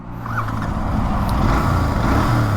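A 2023 Continental GT 650 motorcycle engine idles steadily and loudly up close, a continuous low rumble with no speech.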